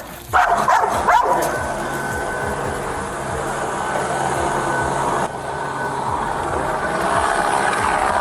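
Police K-9 dog barking during an arrest in a neighborhood: a few sharp barks burst out at the start, then a continuous rumbling, rattling noise carries on underneath with faint voices.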